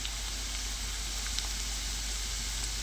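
Carrots going into a hot pan of onion and green chilli sizzle in a steady, close, continuous hiss with a few faint pops, and no talk over it.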